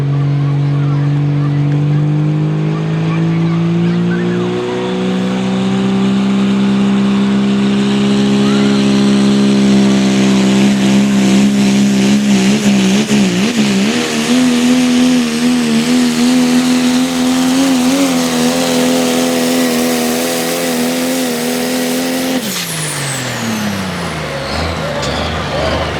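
Diesel 4x4 truck revving hard during a truck pull at the Harford County Farm Fair, a loud continuous engine roar whose pitch climbs and wavers before dropping off near the end, with an announcer talking over it.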